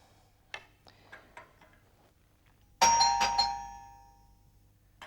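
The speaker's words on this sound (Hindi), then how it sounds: "घंटी क्यों बजा रहे हैं?" A doorbell chimes indoors, a bright ringing tone that rings out and decays after a few soft ticking clicks in a quiet room.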